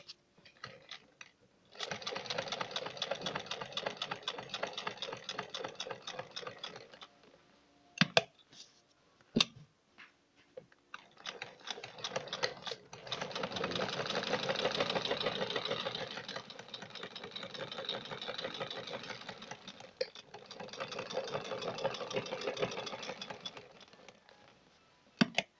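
A sewing machine stitches along a neck design on a garment, giving long runs of rapid, rhythmic mechanical clatter broken by brief pauses. It stays fairly quiet and steady throughout.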